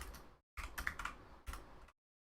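Rapid keystrokes on a computer keyboard in two bursts of clattering typing, close and fairly loud, with a short pause between and silence at the end.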